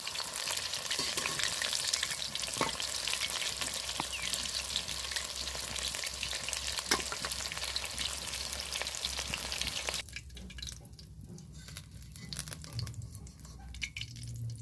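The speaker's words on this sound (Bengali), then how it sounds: "এরকমভাবে আমি সব পকোড়াগুলো ভেজে নেব" Chicken pakoras sizzle and crackle steadily as they deep-fry in hot oil, loud and close for about ten seconds before the frying quiets to a softer bubbling.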